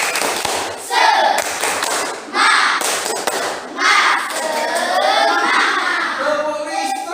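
Children in a classroom perform a rhythmic clap-and-chant routine, bursts of group clapping alternating with loud shouted chanting voices, close and energetic.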